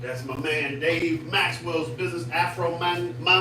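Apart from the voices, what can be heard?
No distinct noise like a dog, phone or traffic.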